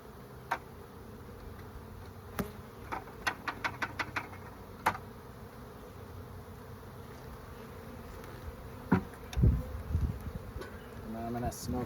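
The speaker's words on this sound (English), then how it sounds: "There are still bees in there." Honey bees buzz around an opened hive close by, a steady drone with individual insects flying past the ear, broken by scattered clicks and taps from handling the hive equipment.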